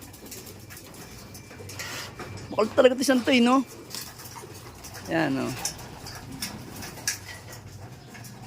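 Several pet birds, including pigeons or doves, call and coo in a short burst near the middle, with a second burst a little later, while someone talks over them in a quiet space.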